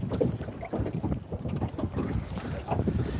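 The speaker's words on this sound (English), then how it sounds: "The wind's blowing us" Wind buffets a small fishing boat out on choppy water, gusting roughly across the microphone in loud uneven bursts with the low wash of water underneath and no talking.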